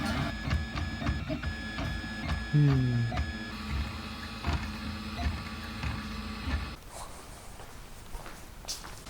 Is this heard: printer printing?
yes